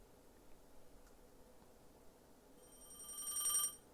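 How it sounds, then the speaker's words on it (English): A telephone bell rings late and faintly through an empty, dark house, one short electronic ring burst near the end over a quiet hiss. "A ringing sounded through the darkness"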